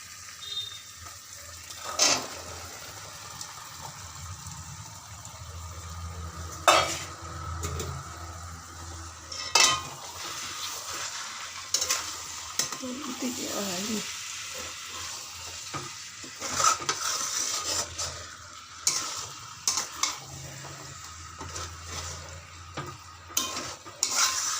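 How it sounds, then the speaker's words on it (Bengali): Chickpeas poured into a hot pan and stirred, giving a steady sizzle with irregular clattering scrapes and knocks of a utensil against the pan through the whole stretch, and no voices. "এবার আমি চানাটা ঢেলে দেবো।"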